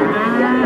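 A single loud, close moo from one of the young cattle at the Magenan cattle market in Pati, a sustained tonal bellow with no talk over it.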